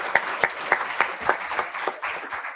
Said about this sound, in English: Can we have a huge round of applause for JF26?